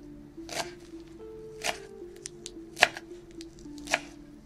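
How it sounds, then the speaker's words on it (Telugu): A knife chops leafy greens on a board in four or five sharp, spaced strokes, close and fairly quiet, with a low hum underneath. "ఇలా శుభ్రంగా కడిగినటువంటి ఆకుకూరను మనము చిన్న చిన్న ముక్కలుగా కట్ చేసుకుందాము"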